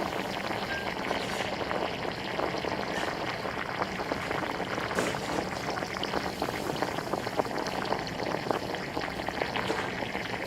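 Small pieces of banana pulp frying in hot oil in a banana-chip processing plant, a dense, steady bubbling crackle that continues without a break.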